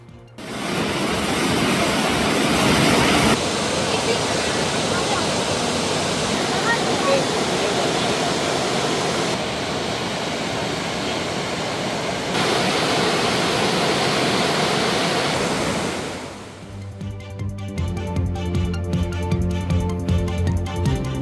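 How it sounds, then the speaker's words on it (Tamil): Monsoon waterfalls at Kodaikanal, such as Vellai Falls, Vattakanal Falls and Pambar Falls, gush with a steady, loud hiss and roar of crashing water for most of the stretch, then fade as music takes over near the end. "வெள்ள நீர்வீழ்ச்சி, வட்டக்கானல் அருவி, பாம்பார் அருவி போன்ற அருவிகளில் தண்ணீர் ஆர்ப்பரித்து கொட்டுகின்றது"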